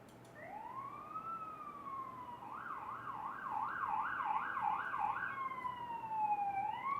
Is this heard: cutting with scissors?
no